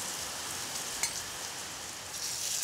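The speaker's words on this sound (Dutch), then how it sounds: "Dus ik ga eventje tofu bakken." Tofu fries in a pan with a steady, soft sizzle throughout, faint and continuous, with one small tap partway through and no talking.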